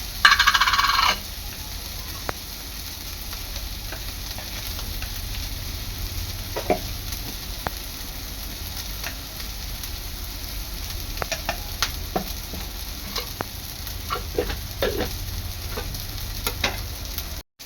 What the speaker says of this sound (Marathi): हळद आणि मसाला 3 ते 4 मिनिटं चांगला परतून घ्यायचा आहे तेलामध्ये।